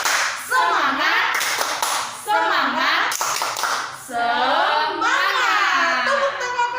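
Young kindergarten children chant loudly in unison while doing a rhythmic spirit clap, their voices dominating with sharp hand claps punctuating the chant.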